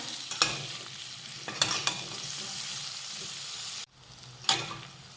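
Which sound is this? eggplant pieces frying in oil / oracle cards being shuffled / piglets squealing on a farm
eggplant pieces frying in oil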